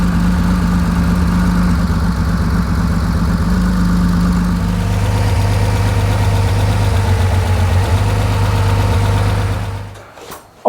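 Porsche 911 2.8 RSR engine running steadily on a dyno as coil packs are unplugged one at a time, a loud continuous low idle-like drone with a slight pitch shift midway, cutting off abruptly near the end.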